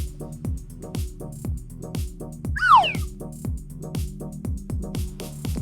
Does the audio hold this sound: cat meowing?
yes